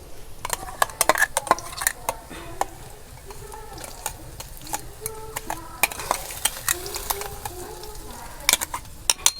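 Spiced paste of ground garlic, ginger, onion, chilli and cumin is stirred into hot oil in a pan for chicken kosha, with a soft sizzle under repeated clinks and scrapes of a spoon against the pan.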